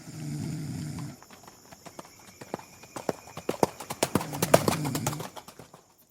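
Horses ridden at night by tired soldiers, hooves clip-clopping in an uneven, quickening series of close, sharp hoof strikes, with a low snort or breathing sound at the start and again near the end.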